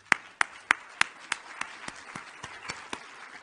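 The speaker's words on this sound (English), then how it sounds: "Let's clap for that." Sparse, slow clapping at a college founders dinner, a handful of distinct claps spaced evenly, loud at first and gradually thinning and fading, with little else around.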